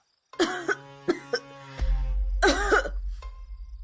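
Several loud, harsh coughs in quick succession, close up, followed by a low rumble and a final short throaty sound.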